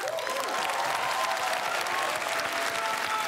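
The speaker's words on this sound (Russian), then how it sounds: "ваши аплодисменты, ребята." Audience applause at a comedy show, dense continuous clapping from a large crowd filling the whole few seconds.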